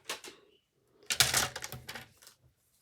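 Paper being cut for a scrapbook album cover, two short quick snips followed by a longer crisp slicing stroke, close and quiet with nothing else around.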